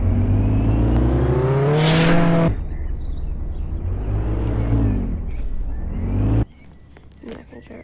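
Car in a Roblox video game driving and revving, a loud engine whine climbing in pitch, then a lower steady drone before cutting off abruptly, with faint clicks afterward.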